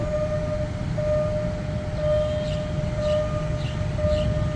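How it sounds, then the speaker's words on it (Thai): Repeated electronic tones of a Thai level crossing alarm sound at a steady rhythm, barriers not yet lowered, over a background of traffic noise, clear and close. "เครื่องกั้นนั้นดังอย่างเดียวครับยังไม่ลง"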